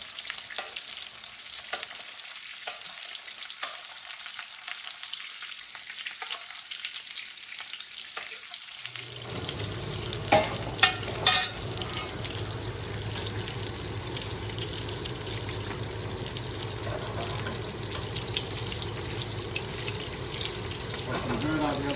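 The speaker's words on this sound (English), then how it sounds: "You can hear the sizzling now. That's what you want to hear." Quiet at first, then chicken starts sizzling loudly in a frying pan, a steady crackling hiss with a few sharp pops and clinks.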